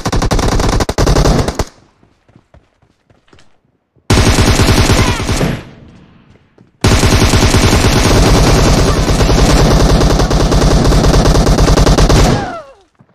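Automatic gunfire in the PUBG video game, loud rapid bursts of machine-gun fire in three long strings separated by short quiet gaps, close and dominant.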